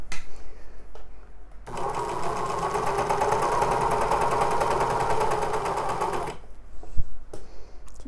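A sewing machine runs steadily for several seconds stitching the side seams of a knit moto jacket, a loud, close, continuous whirring with fast needle rhythm, bracketed by brief handling sounds.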